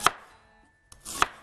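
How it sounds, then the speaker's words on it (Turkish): Onions being chopped with a knife on a cutting board in a home kitchen, two crisp, sharp knife strikes about a second apart with quiet in between. "İlk önce ben şu soğanlarımı bir doğrayayım."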